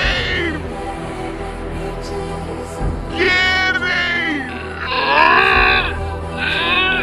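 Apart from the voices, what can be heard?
cat meowing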